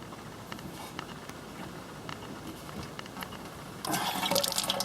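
Water starts running from a wet bar faucet in a 1980s North Dallas house, a steady close hiss and splash that begins suddenly near the end after a quiet room.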